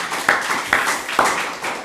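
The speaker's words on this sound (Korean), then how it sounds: "하나님께 박수로 영광을 돌리겠습니다" A congregation in a church clapping together, heard as a brief, roomy wash of applause with a few sharper hand claps standing out.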